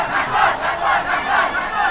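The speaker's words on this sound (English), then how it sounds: "The crowd is roaring." Loud, continuous roar of a big crowd on its feet at the final of a T20 knockout cricket tournament, swelling and surging in waves, close and dense, with no clear voices standing out.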